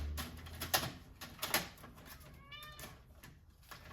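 A house cat gives a single short meow, close by and fairly quiet, among light tapping and rustling handling noises in a room.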